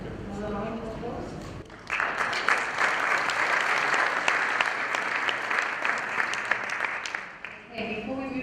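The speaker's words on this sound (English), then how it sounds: "Another round of applause." An audience at a conference session on faecal sludge management for resource recovery applauds steadily for about six seconds after a presentation, with a voice speaking briefly before and after the clapping.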